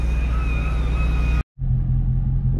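A Dodge Charger Daytona 392 with a deleted muffler idles with a deep, loud exhaust rumble close by, cuts out abruptly for a moment, then resumes its steady throb.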